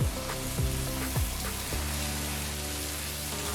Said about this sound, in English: Next I'm adding the ground onion paste.